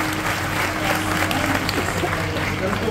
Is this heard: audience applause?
yes